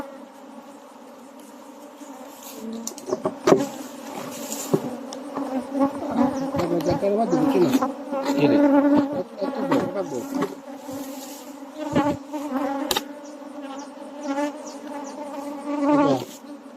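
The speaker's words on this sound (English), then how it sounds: "These bees are not coming for honey or bee. They're coming for propolis." Swarm of bees buzzing around a hive invaded by small hive beetles, the bees drawn to propolis; a dense, continuous drone of many insects with close passes rising and falling throughout, no talk.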